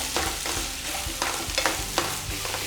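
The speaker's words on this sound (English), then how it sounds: "So we'll just give it a stir." Roasting vegetables stirred in a pan for an au gratin, with a spoon scraping and tossing in a quick, uneven rhythm over a steady close sizzle.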